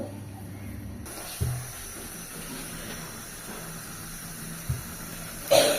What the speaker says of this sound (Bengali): সেটা এখন একটু চুলায় ছেঁকে নেব, ছেঁকে এগুলো পরিষ্কার করে নেব